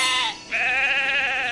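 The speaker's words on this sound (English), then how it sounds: "Some sheep have wandered off from the farm." Sheep bleating in the Thomas and Friends: Magical Tracks video game, two clear, close bleats, a short one followed by a longer wavering cry.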